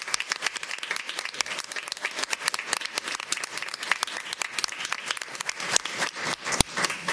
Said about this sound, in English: One last round of applause for these boys.